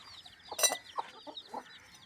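Hens and chicks cluck and peep quietly, a scattering of soft clucks with one louder squawk and thin high chick peeps throughout.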